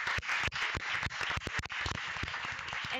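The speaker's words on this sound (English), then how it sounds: "I would like to applaud them with you" Audience applause fills a seminar hall after the speakers finish at an international digital cities conference in Algeciras, with dense steady clapping throughout and a few sharper individual claps standing out.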